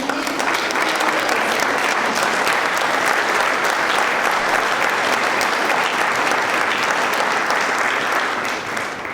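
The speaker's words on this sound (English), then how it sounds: "How about one more just round of applause for all of these amazing educators" Sustained, loud applause from an audience honoring educators at a recognition awards event, steady dense clapping throughout with no talk, tapering slightly near the end.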